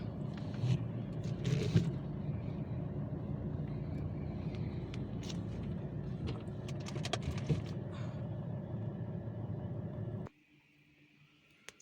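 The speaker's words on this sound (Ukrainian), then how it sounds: "Зараз машину в гараж завезу" A car being driven and reversed into a garage in Spain, a low engine rumble with shuffling and clicking noises throughout before the engine stops abruptly and near-silence follows.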